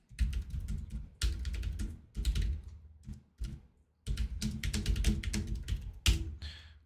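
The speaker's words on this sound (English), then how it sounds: "I'll type it in the chat here." Fingers type on a computer keyboard in quick bursts of clattering keystrokes separated by short pauses, close and clear, with no voices.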